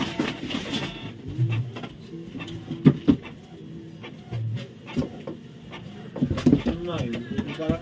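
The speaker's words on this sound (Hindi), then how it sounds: "एक प्रिंट आउट निकलेगा।" A Canon G3012 inkjet printer runs a test page, giving soft mechanical whirs, clicks and paper-feed rattles at moderate level, with a person talking over the machine noise throughout.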